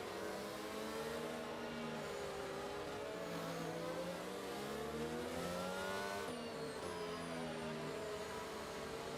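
Several F1 race cars in the F1 2022 video game at Saudi Arabia accelerating after a safety car period, layered engine whines rising and falling in pitch continuously, steady and moderately loud with overlapping revs and no speech.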